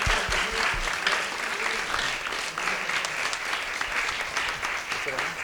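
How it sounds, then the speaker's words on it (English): An audience at a jazz talk applauds a jazz quartet with dense, sustained clapping that stays steady and fairly loud for the whole stretch. "So let's give a round of applause for Ray and his quartet."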